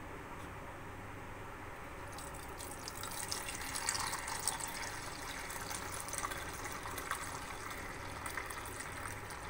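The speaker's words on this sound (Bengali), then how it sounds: "এই বাটিটার মধ্যে ঢেলে দেব।" Warm milk is poured slowly into a bowl for setting curd, a faint liquid trickle and splash that grows a little fuller after the first couple of seconds, quiet and close with no talk.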